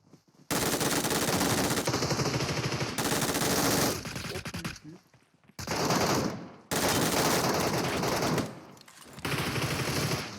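Rapid automatic gunfire from the video game PUBG Mobile comes in long, loud sustained bursts broken by short gaps, dense and close with no talk over it.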